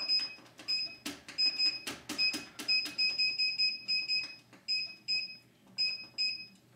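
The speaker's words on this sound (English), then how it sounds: "Hit the timer button. Then you hit more." Oven timer buttons pressed repeatedly, producing a rapid series of short, sharp electronic beeps in uneven bursts, loud and close with no talking.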